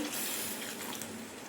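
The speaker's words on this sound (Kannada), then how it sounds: "ಅರ್ಧ ಲೋಟ ಆಗುವಷ್ಟು ನೀರು ಹಾಕ್ಕೊಳ್ತಿದ್ದೀನಿ" Water poured into a pan of ridge gourd and moong dal curry, a brief, soft, steady splashing pour heard alone.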